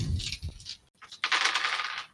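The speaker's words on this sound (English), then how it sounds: "But there's dice noises." Dice rattling and tumbling from a dice-rolling app, two quick bursts of clattering clicks separated by a short pause, close and fairly quiet with no talk.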